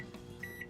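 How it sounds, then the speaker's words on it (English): A microwave oven hums steadily while heating a soft lure-making material, with a faint high electronic tone sounding twice near the end; no one speaks. "I'll put it in the microwave for a few seconds"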